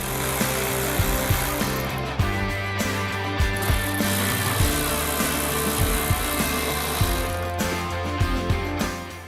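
A power tool works 10mm bolts off a 2019+ Silverado/Sierra 1500 truck tailgate, whirring steadily with repeated ratcheting bursts and clicks up close.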